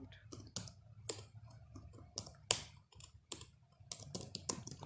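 Computer keyboard keys clicking in quick irregular bursts during C++ coding, close and fairly quiet, with a faint low background hum and no talk.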